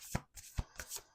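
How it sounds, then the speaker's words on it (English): A quick riffle of playing cards being shuffled, two or three short bursts close by, fairly quiet with no talking. "Last shuffle."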